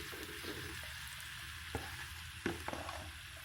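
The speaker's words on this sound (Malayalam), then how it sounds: "ഇനിയിപ്പോൾ മീനും കൂടി ഒന്ന് ഫ്രൈ ചെയ്ത് എടുക്കണം" Anchovy fish fry in a pan with a steady, close sizzle, broken by a few sharp pops and clicks of utensils, with no talking.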